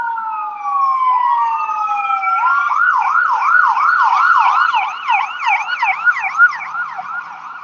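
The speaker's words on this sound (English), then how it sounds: "I'm used to the ambulance without an emergency coming to take the protesters away" A loud ambulance siren wails close by at a protest blockade outside a Hyatt hotel, first in long rising and falling sweeps, then in rapid repeated yelps, with no talking.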